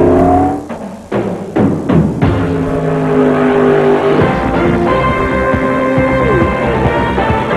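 IRL Indy race cars at Walt Disney World Speedway before the 1997 Indy 200, a loud steady engine roar with a rising pitch that passes close and fills the scene, with no voices.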